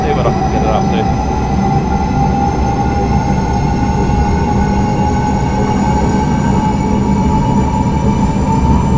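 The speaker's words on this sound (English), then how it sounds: "I just want to see how fast the train can go" A train in Train Simulator Classic near Hamburg accelerates at full power, a loud sustained roar with steady whining electric motor tones and rolling wheel noise that holds for the whole stretch.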